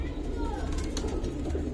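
Silver pigeons of the giribaz and colour-pigeon type coo softly and steadily in a loft, with a low murmuring drone running throughout under nearby talking.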